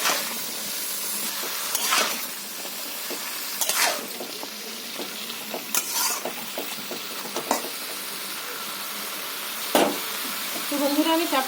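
Bottle gourd greens and potatoes fry in oil in a wok, a continuous close sizzle broken by several sharp stirring scrapes and clatters, louder bursts around the stirs, no voices.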